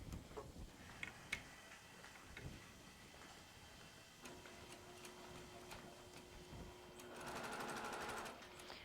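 A sewing machine stitches a log cabin quilt block seam with fast steady ticking, close and quiet. It runs in short bursts with soft handling taps, then comes a faster louder stretch near the end.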